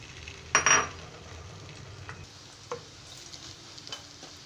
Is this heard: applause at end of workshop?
no